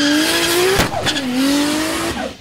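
A Nissan R32 GT-R launches hard at a drag strip, its engine roaring loud and close with rising revs, a quick gear-change dip and tire squeal before climbing again.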